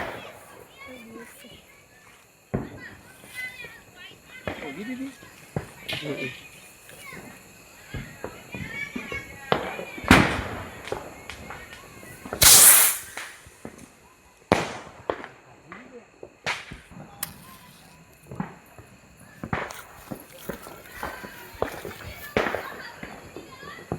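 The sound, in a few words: Diwali rocket fireworks being set off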